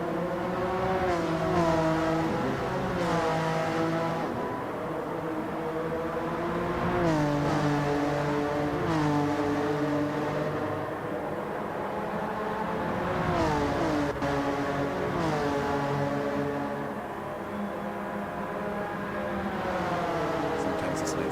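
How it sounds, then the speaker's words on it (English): Race car engines in the GT Champions racing game whine and rev as cars pass one after another, pitch sweeping up and down in a steady stream throughout. "Sometimes it's nice to just listen to the cars run by."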